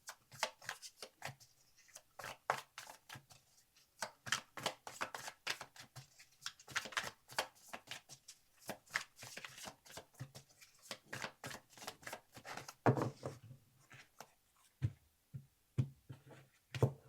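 Tarot cards being shuffled for a four-card reading, a long stretch of quiet, close riffling and sliding card sounds in irregular bursts, with a few firmer taps near the end and no talk.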